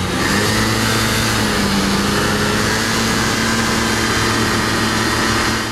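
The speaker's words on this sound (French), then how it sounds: "Lancé au démarreur électrique ou au kick, le deux temps libère un crépitement caractéristique mais raisonnable" A two-stroke 50cc scooter engine of about 4.1 horsepower, started by electric starter or kick, runs steadily and loudly with a constant droning hum and faint crackle, close by, with no speech.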